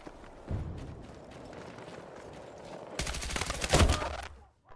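Automatic gunfire in the Battlefield 6 video game: a short burst early, then a loud, rapid sustained volley in the last seconds, building to a heavy blast before cutting off.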